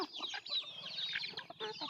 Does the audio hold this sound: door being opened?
no